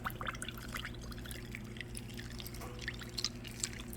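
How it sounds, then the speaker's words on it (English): Sweetened watermelon juice poured over ice in a glass, a soft trickle with light dripping and a few clinks, close and faint under a low steady background hum, with no talk. "you just take your sweetened watermelon juice and pour it"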